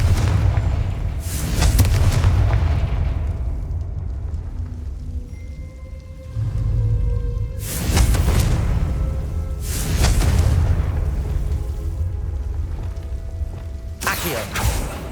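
Confringo blasting spell in Hogwarts Legacy, loud booming explosive bursts that come again and again over a constant rumbling, rain-like wash of game ambience, with faint tonal chimes between the blasts.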